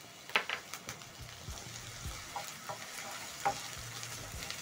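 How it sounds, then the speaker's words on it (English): Onion and ginger frying in a little cooking oil in a pot over a medium flame, a soft continuous sizzle with scattered light scraping and stirring taps, fairly quiet and close, no talking. "Stir in the onion and ginger and cook until soft"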